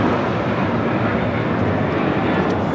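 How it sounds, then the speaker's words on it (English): An Alaska Airlines Boeing 737-800 jet takes off at LAX, its engines producing a loud, sustained roar that holds steady throughout without any speech. "Alaska Airlines 1317 taking off to Seattle on the 737-800."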